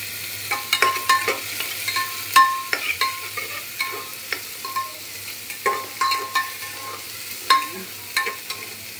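Chopped garlic fries in a pan for a home-cooked Assamese lunch, with a soft, steady sizzle and repeated clacks of a spoon stirring against the pan.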